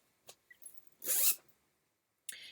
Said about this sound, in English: It has a really cute zipper pull